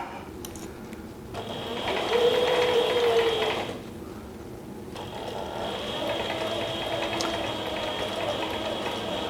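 Mini Sailrite walking foot sewing machine stitching, a close mechanical whir with rapid ratcheting clicks that runs in bursts, pauses briefly, then resumes steadily.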